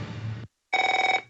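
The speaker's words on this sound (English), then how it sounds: "If fear strikes your heart when the phone rings" Old-style telephone bell ringing in a radio advert, a rapid trilling burst of bright metallic rings following a brief silence, loud and close.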